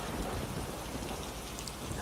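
Steady, dense rain pours close by with a low rumbling thunder undertone throughout, a continuous wash of sound with no voices.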